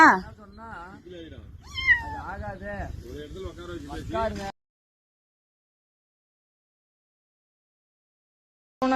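Kittens newly brought into a home meow repeatedly in rising, insistent calls, close and fairly loud for several seconds before the sound cuts off, with a person speaking among them.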